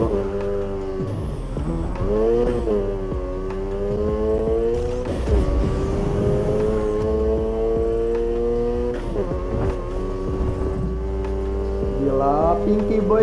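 A Mazda RX-7 in Need for Speed Heat drives hard, its engine revving up and down through repeated gear shifts with a loud, continuous rotary-style whine and occasional tire or impact noises, with no voices.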